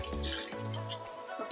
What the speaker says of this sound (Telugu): ఒక 2 గ్లాసులు నీళ్ళు పోసి